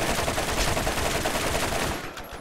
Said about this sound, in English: He was shooting my vehicle.